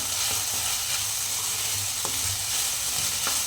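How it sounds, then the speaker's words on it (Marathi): Onion and crushed ginger sauté in a pan for aloo masala, giving a steady, close sizzle with faint stirring scrapes throughout. "कांदा साधारण गुलाबी रंगावरती परतत आला की त्याच्यामध्ये आले जो ठेचा आहे उरलेला तो सगळा घालायचा आहे आणि पुन्हा एकत्र परतून घ्यायचं आहे"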